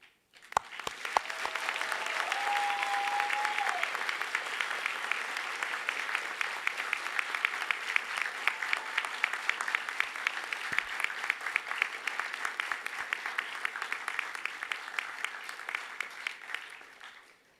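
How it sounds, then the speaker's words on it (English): Loud, sustained applause from university engineering and IT graduates fills a ceremony hall, a steady dense roar of clapping that holds for the whole stretch before tapering at the end. "show them what a really loud, rousing round of applause sounds like"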